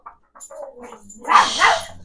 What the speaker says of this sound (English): My dogs have so much to say today, apparently, to you guys.